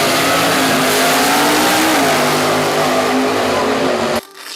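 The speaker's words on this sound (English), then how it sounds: "The 1967 Dodge Coronet WO23 Superstock was a purpose-built drag racing machine, engineered for all-out quarter-mile dominance." A 1967 Dodge Coronet WO23 Superstock, a factory lightweight drag racing car, revs its engine in one loud, sustained roar with a steady pitch, then cuts off abruptly at the end.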